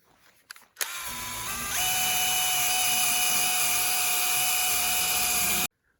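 A power tool scours rusty, seized transmission parts from a 1956 Dodge H6 truck, giving a loud, steady high-pitched whine that spins up, jumps higher in pitch and then holds before cutting off abruptly.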